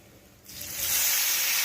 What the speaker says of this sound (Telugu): ఇందులో వేసేసాను, మజ్జిగ పులుసులో వేసేసానండి